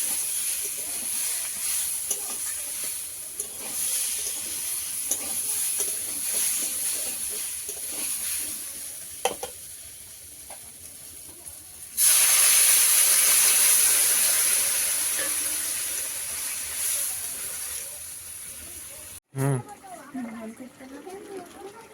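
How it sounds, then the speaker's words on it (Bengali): Water poured into a pan of sautéed curry bursts into a loud hiss and steam sizzle partway through, fading gradually, after a stretch of quieter cooking noise with someone talking. "এটা কষানো হয়ে গেছে এবার জল দিয়ে দেবো"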